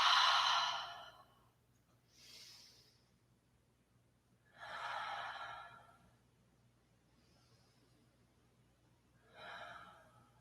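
Deep breaths during a yoga pose, three long, close, audible exhales spaced a few seconds apart, with faint inhales between and no talking.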